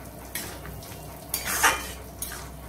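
A spoon scrapes and clinks around a pan of shrimp dopiaza with a soft background sizzle. It gives three short stirring bursts over a quiet hiss, with the middle one the longest.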